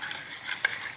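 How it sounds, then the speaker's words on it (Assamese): Masala with red chili powder and a little hot water fries in a pan, a soft continuous sizzle with light stirring scrapes and one brief sharp clink of the utensil. "কেঁচা গোন্ধটো যোৱালৈকে ভালদৰে ভাজি থাকিব লাগিব"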